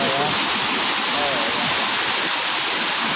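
Rushing river water pours steadily along a Thai riverbank where fish leap, a loud, continuous broadband wash with no break over three seconds.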